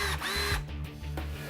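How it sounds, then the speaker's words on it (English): A cordless power drill runs steadily at close range, its motor whine shifting pitch as the trigger is eased and squeezed again, with no talking over it. "NASA didn't invent the cordless power drill, but they did help to make it a whole lot better."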